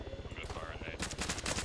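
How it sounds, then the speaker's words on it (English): Gunfire in the ArmA 3 military simulation comes as a rapid string of sharp, clattering shots, bursting louder and denser in the second half, with no voices over it. "Shots from the west."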